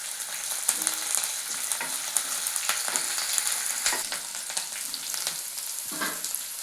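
Green chillies and curry leaves frying in hot oil in a pan, a steady close crackling sizzle with occasional stirring scrapes, no talking.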